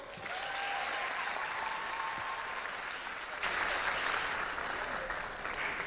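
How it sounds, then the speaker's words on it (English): A round of applause from the audience at a gala awards ceremony for a student company competition. Sustained clapping from a large crowd stays fairly distant and even, then swells slightly louder about halfway through. "Round of applause."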